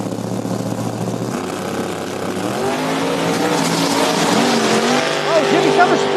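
Small-tire drag race cars launch in a loud, sustained engine roar that rises and holds, with tire squeal near the end, at a Speed Promotions small-tire race event, with an announcer's voice mixed in beneath.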